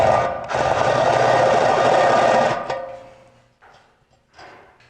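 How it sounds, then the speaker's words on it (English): A drill with a countersink bit cleans up freshly drilled holes in a gas tank mount for a chopper, giving a loud steady whirring run of about two seconds and then a few shorter, fainter bursts. "I'll use a countersink here to just clean this up."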